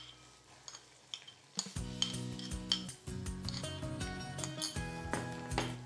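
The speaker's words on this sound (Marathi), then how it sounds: "आणि सोनेरी रंगावर कांदा छान परतून घेऊया" Chopped onion with green chilies frying in a pan, quiet at first, then a sudden burst of sizzling that continues with spatula scraping and stirring knocks, close and moderately loud, no voices.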